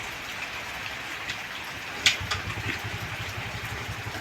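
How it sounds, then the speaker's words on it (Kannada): Steady rain pouring with a dense hiss, a low engine rumbling faintly underneath and a single sharp tap partway through. "ಈ ಥರ ಮಳೆ ಇದೆ ಫ್ರೆಂಡ್ಸ್ ಇವತ್ತು ಬೆಳಗ್ಗೆಯಿಂದ ಫುಲ್ ಮಳೆ ಇದೆ"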